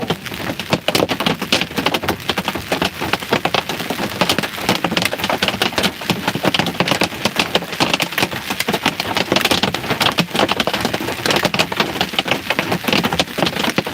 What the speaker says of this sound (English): that's the biggest hail I've seen in a long time here